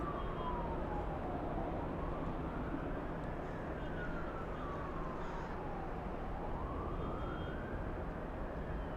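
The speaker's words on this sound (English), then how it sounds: "I hear emergency sirens." A distant wailing emergency siren rises and falls in long sweeps over a steady background rumble near Los Angeles International Airport, with no talking.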